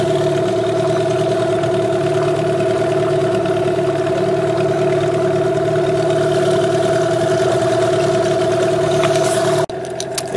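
A new Parsun T15BMS 15 hp outboard boat motor runs at low trolling revs of about 1000 rpm, a steady, loud droning hum that holds constant for about ten seconds before an abrupt break near the end.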